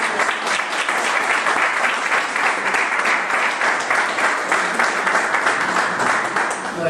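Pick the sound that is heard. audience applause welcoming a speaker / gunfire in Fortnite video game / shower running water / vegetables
audience applause welcoming a speaker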